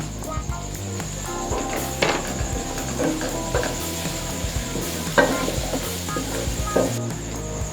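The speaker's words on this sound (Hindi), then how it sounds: "थोड़ी सी बंद गोभी ये काट कर डाल देंगे।" Chopped carrot and cabbage stirred in a hot pan for spicy egg macaroni, with continuous sizzling under repeated scraping and clinking of a utensil against the pan, close and busy throughout.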